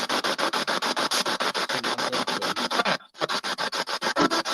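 A paranormal investigation radio scanner sweeping through frequencies, giving a loud, steady rasp of static chopped into rapid regular pulses, with one brief dropout near the end.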